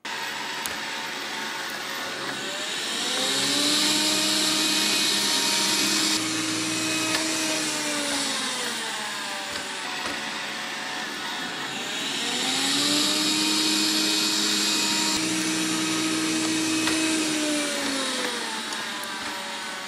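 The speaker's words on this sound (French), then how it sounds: "Dès qu'il monte, il augmente sa puissance d'aspiration et il arrête automatiquement de laver." A Dreame L10s Ultra robot vacuum cleaner drives over a carpet, its motor whirring steadily and swelling twice into a louder, higher suction roar before easing back, close and continuous with no talking.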